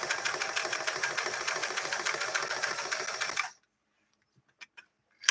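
A Singer 328K sewing machine runs steadily for about three and a half seconds, stitching a zigzag with a fast, even mechanical chatter, then stops abruptly, leaving near silence with a couple of faint clicks.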